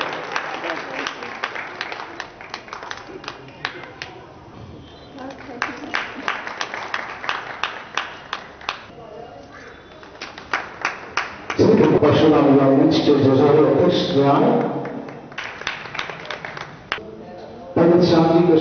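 An audience at a Parshuram stage event in Ratlam breaks into loud, sustained applause to welcome a guest, with a speaker addressing the crowd over a microphone before and between the bursts of clapping.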